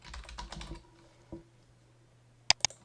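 Someone types a sheet name in LibreOffice Calc on a computer keyboard: a quick close run of keystrokes, a lone tap after a pause, then two sharp, crisp key presses at the end.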